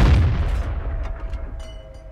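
A tank cannon fires a high-explosive shell in the World of Tanks video game, one loud booming shot right at the start that decays into a rumbling tail over about two seconds.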